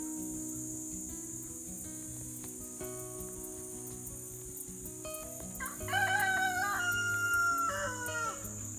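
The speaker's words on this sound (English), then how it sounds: "Excuse the rooster." A rooster crows loudly near the end on a homestead, a long wavering call over a steady background of chirping insects.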